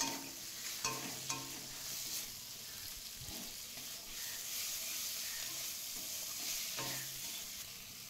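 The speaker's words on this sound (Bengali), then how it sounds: "আদা রসুন পেস্টটা দিয়ে দিলাম, দিয়ে মশলাটাকে ভালোভাবে কষিয়ে নেব। এবার দিয়ে দেবো একটা কুচনো টমেটো" Ginger-garlic paste and chopped tomato being sautéed in a pan, a faint steady sizzle with intermittent scraping stirs and clinks of a utensil.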